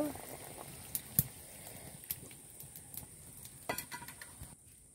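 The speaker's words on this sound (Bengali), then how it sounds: "এবার ফুটছে, আমি এটা দিয়ে দিব।" Sour curry boiling in a pot on a home kitchen stove, a faint steady bubbling hiss with scattered small clinks and taps of utensils against the pot, under occasional quiet voice.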